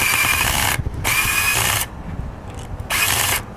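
A Black + Decker cordless drill whirs loudly in three bursts separated by short pauses, each a steady high motor whine close to the listener.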